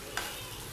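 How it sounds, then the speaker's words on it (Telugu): A spoon stirs ridge gourd chutney into hot tempering in a pan, giving one quick scrape over a soft, continuous sizzle. It is quiet and close. "చట్నీ అంతా కూడా బాగా మిక్స్ అయ్యేటట్టు, తాలింపులోకి బాగా కలిసేటట్టు మిక్స్ చేసుకోవాలండి"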